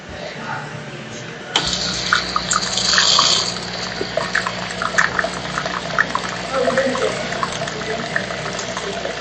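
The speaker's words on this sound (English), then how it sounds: "So it rinses, that was rinsing both the milk spout and also the espresso spout." A Bellucci Slim Latte espresso machine starts up and runs water through its milk and espresso spouts, a sudden onset of rushing, gurgling flow with pump hum and sputtering splashes lasting several seconds.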